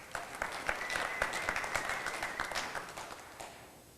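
An indoor audience claps at a 2001 Chrysler Sebring product presentation, a dense patter of many hands that swells early and slowly fades, with no talking.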